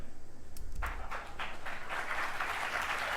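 Studio audience applause swelling from a few scattered claps into steady, dense clapping that holds at moderate volume.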